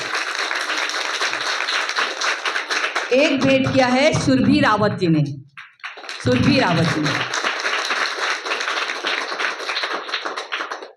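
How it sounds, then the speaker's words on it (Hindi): Clapping from an audience at a community gathering where donors are thanked, running as a steady dense patter under an announcer's amplified voice through most of the stretch, with a short pause in the middle. "तो उनके लिए जरा जोरदार ताली।"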